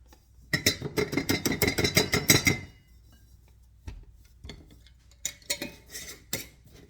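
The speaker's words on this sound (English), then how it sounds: "Just going to shake it all up now." Popcorn and seasonings are shaken hard in a container, a fast rattling run of about two seconds. It is followed by a pause and then a few scattered shakes and taps, close and loud, with no talking.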